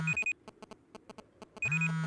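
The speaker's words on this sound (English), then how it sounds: "You hear the pagers going off." Electronic pager beeps set off by a dome alarm in the Rust video game: a rapid run of short, evenly spaced bleeps framed by longer sustained alarm tones at the start and end, clear and fairly quiet.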